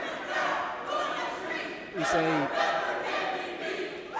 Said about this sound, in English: crowd that's just arriving here